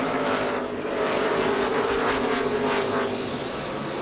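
NASCAR race cars roaring past in a pack at the 2006 Chevy Rock & Roll 400, a loud continuous engine howl with shifting, overlapping pitches and no talk.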